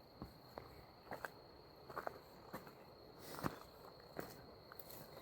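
Faint, steady cricket chirping hums in the background on a quiet night in Devil's Den State Park, Arkansas, broken by occasional soft crunching footsteps nearby.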